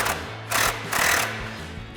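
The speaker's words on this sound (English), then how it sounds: "we're going to loosen our outer ball joint side, again with our 21 mil socket" An impact gun or ratchet drives a 21mm socket to loosen the outer ball joint nut on a RAM 2500's steering linkage, giving close, rattling mechanical bursts that pulse and pause, with two louder surges.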